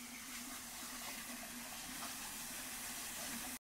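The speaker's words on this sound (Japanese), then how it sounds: "いやー、水の音、涼しげですね。" A steady, faint rush of flowing water runs continuously with no breaks, a small waterfall in a large garden in Obihiro, Hokkaido, heard from a short distance.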